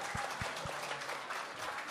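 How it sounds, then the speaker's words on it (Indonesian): Short, fairly faint applause from a church congregation for the children, a few hand claps standing out near the start before the clapping thins into the room's hubbub. "Sekali lagi dong tepuk tangan buat anak-anak kita."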